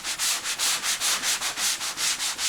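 A sanding pad rubs up and down the grooves of a Hume door being prepared for paint, making steady rhythmic scratchy strokes, close and loud, about a dozen passes with no voices.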